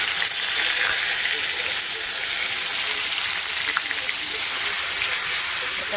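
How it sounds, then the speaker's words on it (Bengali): Ground onion paste, added to hot oil with dried red chillies, fries with a loud, continuous sizzle, a dense and steady crackling hiss that stays close and unbroken throughout. "তেলের মধ্যে দিয়ে দিচ্ছি। পেঁয়াজ বেটে রেখেছি, পেঁয়াজটা দিয়ে দিচ্ছি।"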